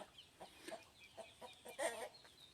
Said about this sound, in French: C'est trop mignon, les petits canards.